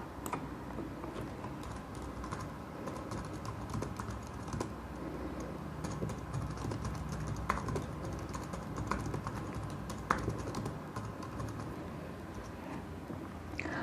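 Fingers type a chart title on a computer keyboard, a steady run of close, light key clicks with irregular rhythm and a few louder taps, no voices.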